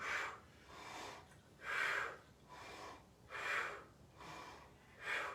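Steady rhythmic breathing during a wide-stance toe-touch stretching exercise, long audible exhales and inhales alternating in a regular cycle about every second, close and fairly soft.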